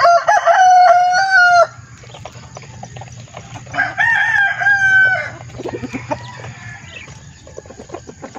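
Chickens cluck nearby while a rooster crows loudly twice, long drawn-out calls separated by a few seconds of quieter clucking and farmyard noise.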